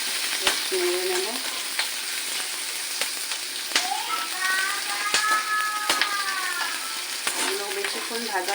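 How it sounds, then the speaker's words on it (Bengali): Onions sizzling in oil in a pan for chili chicken, a steady crackling fry with intermittent scraping strokes of stirring, close and alone. "একটু ভাজা হয়ে গেলেই এর মধ্যে আমি পেঁয়াজগুলো দিয়ে দেবো"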